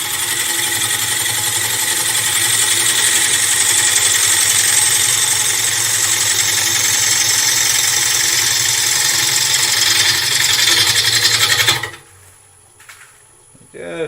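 A wood lathe spins a blank of rippled sycamore with a steady, loud mechanical whine and hum that runs unbroken for about twelve seconds, then cuts off abruptly as the machine stops.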